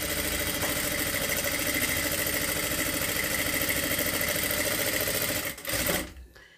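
A sewing machine runs steadily for about six seconds while stitching the edge of a boat neck blouse, a close, even mechanical whir that slows and stops near the end, with no talk over it.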